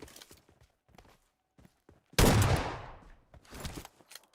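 Gunfire in PUBG Mobile during a tournament final: one loud, sharp shot with a long fading echo stands out among softer scattered clicks and footstep-like taps.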